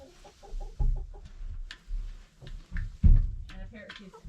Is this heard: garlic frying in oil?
no